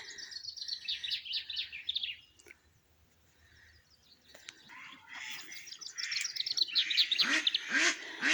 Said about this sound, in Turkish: güneşli, kuşlar ötüyor.